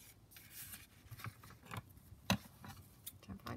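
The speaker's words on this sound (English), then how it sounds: "kind of cut it about here" Scissors snipping through paper while making a craft pocket-and-envelope booklet, a quiet run of soft rasping cuts with one sharper snip near the middle, close and alone.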